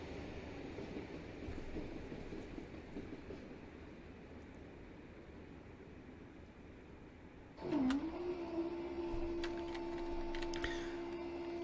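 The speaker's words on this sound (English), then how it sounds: "It's got a little noise as the gates sort of bounce around a bit as well" Level crossing gates on a railway line in Train Simulator 2021 rattle and bounce with metallic clinks, followed by a steady sustained tone, over a constant low rumble of a passing train.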